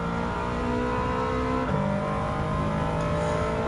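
A race car in Gran Turismo 7 on the Japanese 4WD Challenge holds a steady, loud engine drone with a brief pitch drop midway as it shifts up a gear, then climbs again, continuous and close with no talk.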